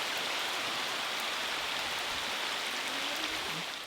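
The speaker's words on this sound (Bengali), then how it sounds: "মাছ কাটার পর এত জোরে বৃষ্টি চলে আসলো" Heavy rain falls outdoors in a steady, dense hiss that holds evenly throughout, with no voices.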